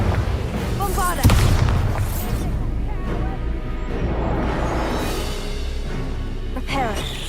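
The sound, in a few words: Bombarda explosion spell in the video game Hogwarts Legacy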